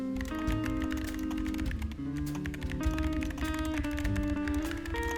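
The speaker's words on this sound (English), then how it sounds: "The keyboard I currently use is the EpoMaker SK66 with a split spacebar, Gateron optical red switches" Keystrokes on an EpoMaker SK66 keyboard with Gateron optical red switches and a split spacebar, a steady stream of clicks running under continuous, louder background music.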